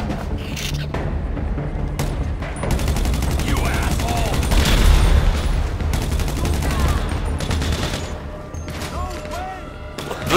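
Sustained gunfire in a GTA 5 zombie survival game, rapid bursts and volleys running throughout over busy game sounds, with voices talking underneath.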